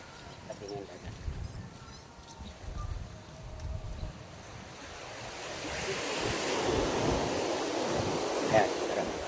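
Sea waves roll onto the shore beside a seawall at Barangay Bakak, a low rumbling wash that builds into a louder broad surf, with wind buffeting the microphone.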